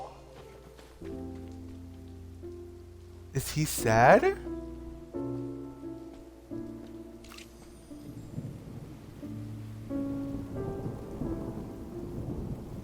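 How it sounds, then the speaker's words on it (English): Game rain falls steadily through a Genshin Impact scene, with a loud thunder crack rolling out near the middle before the downpour continues; a voice speaks briefly over it. "It's raining!"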